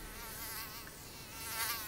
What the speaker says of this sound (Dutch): Kut vliegen.